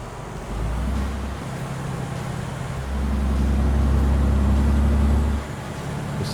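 A low, steady truck engine drone from American Truck Simulator, with a reefer trailer sound addon, hums in two long stretches, rising and settling in pitch, with no talking over it.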